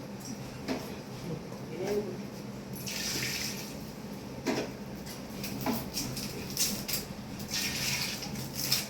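Water pours and splashes into a cooking pot of country chicken for biryani in a few short bursts, fairly quiet, with some kitchen clatter around it.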